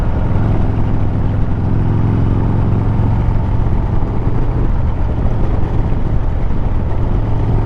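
A 1991 Harley-Davidson FXR on the road gives a steady, loud engine rumble mixed with wind rush, running continuously throughout with no talking.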